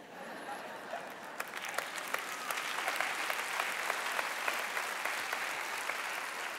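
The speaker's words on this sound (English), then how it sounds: "all the young people are clapping" An audience of young people claps, a broad, even patter of many hands that swells slightly and holds steady throughout, with a few sharper claps standing out.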